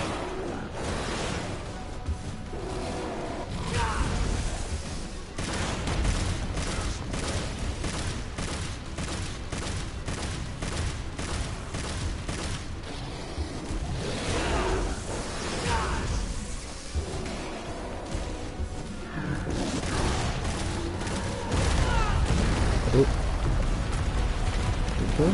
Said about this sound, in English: You take damage while I'm shooting you, right?